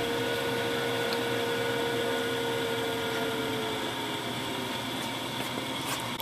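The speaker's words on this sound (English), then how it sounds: "You're going to hear the drum motor over the fan." A small coffee roaster runs its drum motor and fan together, giving a steady close whirring drone with a faint tonal hum under a broad airy rush, unchanging throughout.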